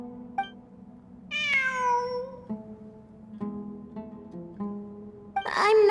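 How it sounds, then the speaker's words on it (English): In Genshin Impact, a cat gives one drawn-out, falling meow, followed by several shorter, softer mews over quiet in-game ambience, then a brighter burst of sound at the very end. "It really is a cat."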